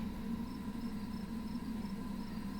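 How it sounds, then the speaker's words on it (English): Crickets chirp quietly on a warm night in a sleepy little neighborhood in the Scarlet Hollow video game, a faint, even, repeating trill over a low hum. "Crickets singing quietly in the sleepy little neighborhood"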